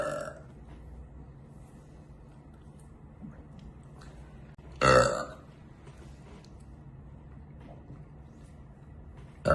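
A single loud, drawn-out burp erupts near the middle, with another belch starting right at the end; the rest is quiet room tone.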